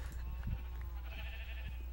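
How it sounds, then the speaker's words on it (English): Sheep bleating in Minecraft on a farm where the animals keep escaping, several short bleats scattered over a steady low background hum, moderately quiet. "Oh shit, the sheep are getting out."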